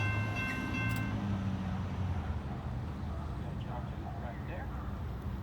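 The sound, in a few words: Norfolk Southern freight train passing on track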